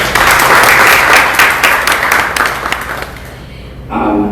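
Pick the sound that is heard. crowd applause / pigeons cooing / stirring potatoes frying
crowd applause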